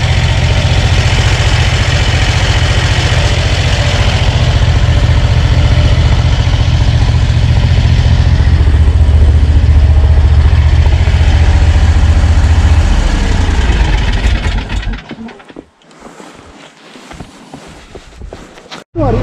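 A Lanchin 30 hp engine that runs poorly in the cold, with carburetor and fuel trouble, idles close by with a steady loud rumble for about fifteen seconds, then cuts out into quiet knocks and rustling.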